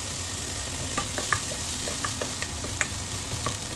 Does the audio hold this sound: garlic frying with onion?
yes